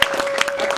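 A church congregation claps and cheers in a steady, dense burst of applause, loud and close, with a sustained tone running beneath.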